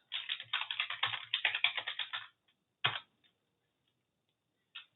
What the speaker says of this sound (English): if I type in the W command